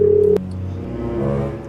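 A mobile phone placing a call gives a short electronic beep, then a steady ringback-like tone that holds close and clear for over a second with no talk.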